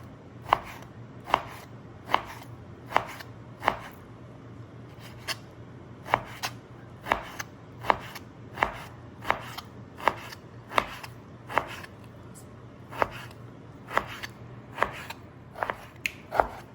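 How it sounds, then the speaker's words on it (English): A knife thinly slicing beef flank steak on a cutting board: crisp, evenly spaced chops knocking against the board roughly every second over a faint steady hum, close and with no talking. "I'm just finishing up slicing up the beef flank steak here"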